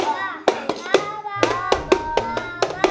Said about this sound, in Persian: بس دیگه بچه ها، تشویق نکنید